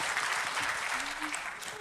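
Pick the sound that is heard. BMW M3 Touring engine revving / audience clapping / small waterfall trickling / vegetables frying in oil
audience clapping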